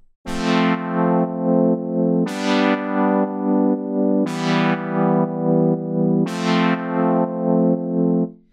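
A synthesizer chord pulses in a steady rhythmic chop, its volume throbbing several times per bar while the chord is restruck every two seconds.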